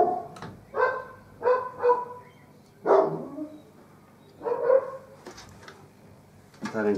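A dog barks in several short separate bursts at close range, with brief whimpery yips between them, over quiet room background.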